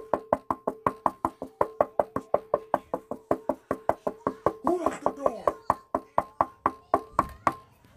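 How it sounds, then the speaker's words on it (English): Rapid, steady knocking on a door, dozens of sharp raps in a continuous run, with a brief muffled rustle partway through and a heavier thump near the end. "Who the heck is knocking?"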